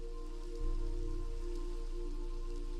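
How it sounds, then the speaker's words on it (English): Steady rain patter in the Minecraft Cobblemon modpack, a constant hiss of falling drops that swells slightly after the first half second and holds evenly, with low tonal game ambience underneath and no talking. "Okay, it's gonna rain, which is fine."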